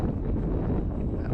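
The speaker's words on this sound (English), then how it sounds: "Ooh, that wind." Wind buffets an outdoor microphone at an RC model flying field, a steady, loud, low rumbling roar that runs through the whole moment without a break.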